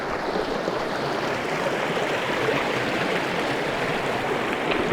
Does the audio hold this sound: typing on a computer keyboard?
no